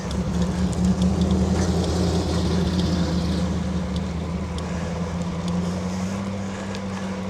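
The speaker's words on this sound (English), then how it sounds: "Cool little old car driving past me." A little old car drives past someone outdoors on a trail, its steady engine drone under wind noise on the microphone, holding fairly constant before easing slightly.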